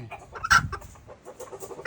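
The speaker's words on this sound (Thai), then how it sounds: "ตัวนี้ก็ไก่แม่ครับ" A hen clucks on a rural Thai farm raising fighting-breed chickens, a few short close clucks with one sharper call near the start, then softer scattered clucking.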